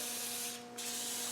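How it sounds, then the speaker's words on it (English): Aerosol rustproofing spray hissing onto the winch connections of a Land Rover 130, a loud close continuous spray with a brief dip in the middle. "Get it on there, spray it on"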